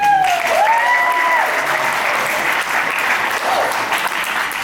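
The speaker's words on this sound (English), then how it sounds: "Let's just get a quick round of applause" A crowd at a wedding party claps for the bride and groom, a full, loud burst of applause sustained throughout, with a few whoops and cheers rising briefly over the clapping near the start.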